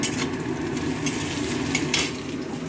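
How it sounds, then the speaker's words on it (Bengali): Onion frying in a pan for chowmein, a steady close sizzle with a few quick metallic stirring scrapes and taps. "পেঁয়াজটা দিয়ে দিলাম ভাজা চলছে"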